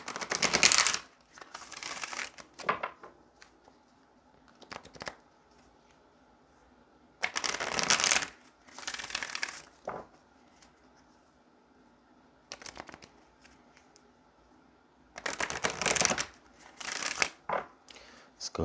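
Tarot cards are shuffled in several separate bursts of crisp riffling and flapping, each a second or two long with quiet pauses between, fairly close and soft.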